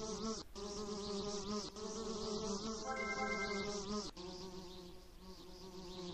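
A mosquito in the PlayStation game Mickey's Wild Adventure makes a steady insect buzz over continuous game music and sound effects, with brief clicks and no talk.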